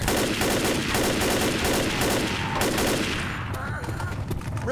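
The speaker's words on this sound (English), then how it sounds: "I'm gonna take the machine gun though." Mounted machine gun in Left 4 Dead blazes in a dense, continuous burst for several seconds, loud and close, then cuts off and leaves scattered game noise.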